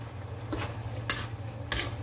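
A spoon stirring ginataang sitaw, string beans cooked in coconut milk with dried dilis and malunggay, in a pot, giving three soft scraping clinks spaced apart over a low steady hum.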